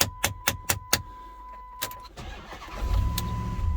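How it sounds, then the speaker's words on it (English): A Ford Transit truck's engine cranks over with a few sharp clicks and clacks before it catches, then settles into a steady low idle close by. "this truck will turn right over"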